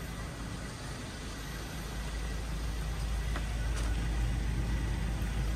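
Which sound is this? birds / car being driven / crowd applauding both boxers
car being driven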